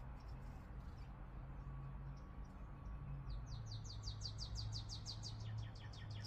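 A small bird chirps nearby in a quick run of repeated high tweets that starts partway through and continues to the end over a low background hum.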